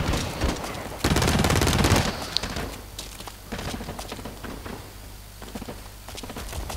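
Sustained rapid gunfire from the online shooter Blacklight Retribution, several weapons firing in overlapping bursts with a dense, loud stretch early on, then scattered shots and rattling that continue steadily without voices.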